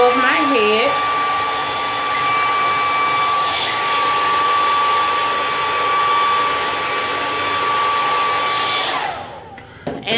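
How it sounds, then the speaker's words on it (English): A handheld blow dryer runs continuously at close range, drying hair while the head is being molded before laying a track, with a steady loud whine lasting nearly the whole time before it cuts off at the end. "I know you seen me use the blow dryer just now."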